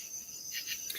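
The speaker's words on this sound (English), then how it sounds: "Do you have crickets there?" Crickets chirp steadily beside a pond at night, a thin high trill running continuously through the second with a few brighter pulses toward the end, fairly faint and with no talking.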